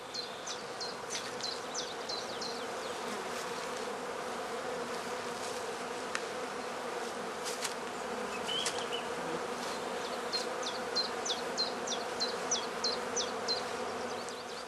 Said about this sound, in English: The smoke from the smouldering tansy subdues the bees which are already actively tending their brood.